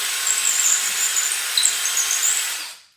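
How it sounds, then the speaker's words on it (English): An electric drill fitted with a larger bit, used as a countersink, bores out a hole while attaching hingeless doors to a North Star house, a steady high whine running for about three seconds before fading out abruptly. "now I take a larger drill bit"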